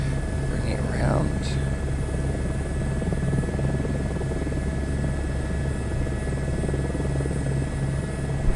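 An Airbus helicopter in Microsoft Flight Simulator 2024 flies with a constant low rotor and turbine drone that stays even and loud from start to finish.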